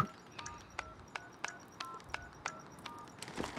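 In Call of Duty: Modern Warfare, a bomb is being defused to a quick series of short, bright electronic beeps. The beeps are faint but distinct and arrive in an irregular rhythm over a quiet background.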